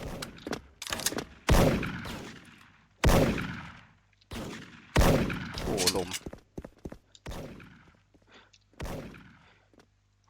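Gold PSG-1 sniper rifle shots in the Special Force shooting game, several sharp loud cracks spaced a second or two apart, each trailing off in a decaying echo, with fainter clicks and game effects between.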